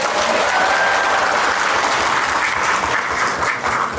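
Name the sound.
audience applause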